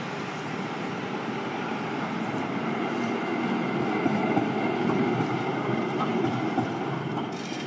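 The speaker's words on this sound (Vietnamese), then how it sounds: "Tram là một dạng phương tiện công cộng ở đây nè mọi người." A city tram in Belgrade rolls past, a steady, fairly loud rumble with rail noise that swells slightly in the middle and fades a little toward the end.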